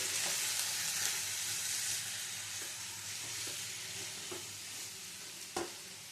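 Vegetables frying in a pan are stirred, producing a loud continuous sizzle with occasional utensil scrapes and taps near the end, and no voices.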